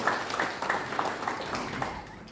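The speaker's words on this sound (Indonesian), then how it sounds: "Tepuk tangan buat Tuhan Yesus." Church congregation claps together in praise, a faint, fairly regular rhythm of group hand claps lasting a couple of seconds in a reverberant room.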